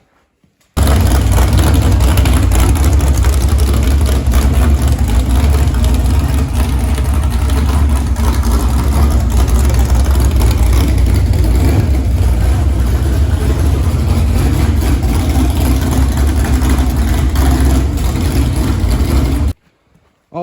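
A car engine, freshly bolted through the frame to its aluminum heads, roars loud and close at sustained high revs for about eighteen seconds, a dense steady rumble that cuts off abruptly at the end.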